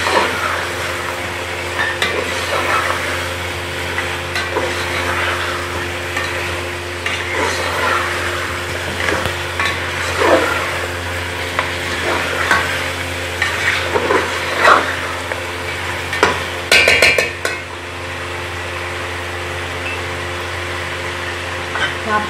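Spice paste frying in a pan on the stove, with a steady sizzle throughout and occasional scraping and stirring clatter, no voices.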